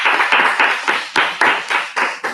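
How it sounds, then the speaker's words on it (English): A small audience at a parish event claps for the prize winners: a close, steady run of about a dozen sharp, evenly paced claps with no talking. "Please clap for them."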